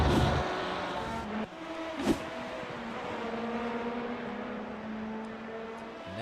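An LMP2 or GTE race car in the iRacing video game at Indianapolis Motor Speedway brakes and accelerates through turns 3 and 4, its engine pitch dropping and climbing in a steady drone with a brief burst partway through.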